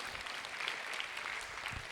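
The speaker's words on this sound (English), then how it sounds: "A very big round of applause for what they have achieved." A school audience of teachers and children gives a round of applause, a dense, steady wash of clapping filling the short moment at moderate volume with no voices on top.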